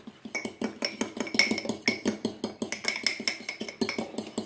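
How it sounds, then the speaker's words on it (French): Forks beat eggs in a bowl for a Nutella galette des rois, giving a fast, regular run of bright metallic clinks and taps, close and steady throughout, with no voices. "vous reprenez vos fourchettes et puis vous les mélangez"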